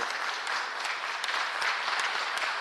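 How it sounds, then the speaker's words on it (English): Audience applause at a public meeting on trade, travel and tourism, a dense, even burst of clapping from a room of people, steady for a few seconds with no talking. "please just limit your applause"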